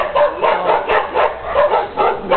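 Small dogs bark repeatedly in quick, yappy bursts, loud and close, with a steady rhythm of about two barks per second.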